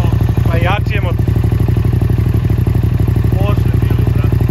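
A Yamaha MT-07 style motorcycle engine runs steadily and loudly, its rapid pulsing firing rhythm continuous throughout, with brief voices speaking over it.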